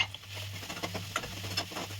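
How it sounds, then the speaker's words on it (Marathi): Tomato sautés in oil in a pan with a soft, continuous sizzle and quick patters of spatula stirring under a low steady hum. "टोमॅटो सॉफ्ट होईपर्यंत मी तेलात परतवणार आहे"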